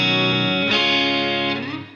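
Electric guitar through a clean boost and a Keeley Caverns reverb pedal, a single sustained chord ringing cleanly with a smooth reverb tail, then a brief change near the end as the sound decays.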